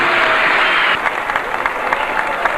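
An audience applauds steadily at a Bulgarian music event honoring two singers, dense clapping throughout with a slight dip after the first second.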